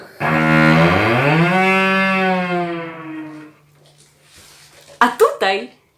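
A long, low bowed cello tone slides upward and swells like a cow's moo, then fades; a few short sharp knocks follow near the end.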